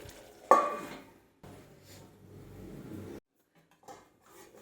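A metal lid clanks down onto a cooking pan holding stuffed brinjal, giving one bright ringing clink, followed by a soft, low sizzle from the covered pan and a few quiet handling sounds.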